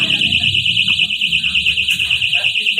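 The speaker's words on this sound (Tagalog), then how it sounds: "Nag-alarm, malakas ang alarm." A motorcycle alarm warbles loud and piercing in a fast, steady pulse close by on a street in Tondo, Manila, with a low rumble underneath and a voice faintly mixed in.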